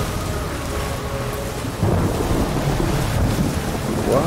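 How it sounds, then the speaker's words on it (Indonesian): A thunderstorm in the game Ori and the Will of the Wisps: steady heavy rain and wind with a deep thunder rumble rolling in midway and swelling to a loud, dense roar. "Wow, badai guys."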